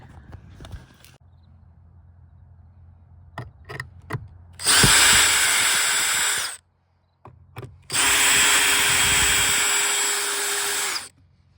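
A power drill drives screws into wood while building a camper door for a DIY camper trailer: two long, loud whining bursts, separated by a short pause, with a few knocks and taps before them.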